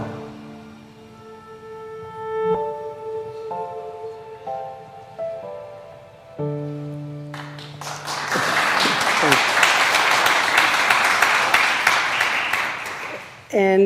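Applause rises from a conference audience at a European hydrogen skills stakeholder event, a dense, steady clatter of many hands that swells after a stretch of sustained musical tones and carries on loud and even to the end.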